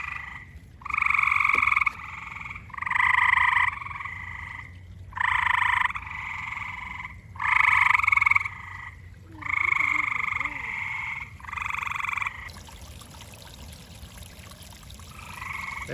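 A backyard chorus of small frogs croaks in loud, rhythmic bursts roughly every two seconds, close and steady over a faint outdoor hum, with no talking.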